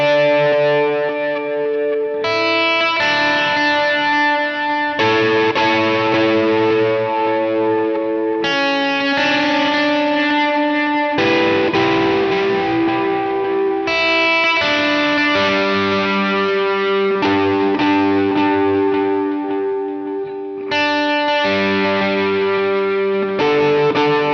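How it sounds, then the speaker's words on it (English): An electric guitar runs through a Line 6 Helix with distortion, chorus and echo, switching between sustained rhythm chords and lead lines in a steady, loud passage with no talking. "I alternate between playing the lead part and the rhythm electric guitar part for that song. So it uses the same snapshot"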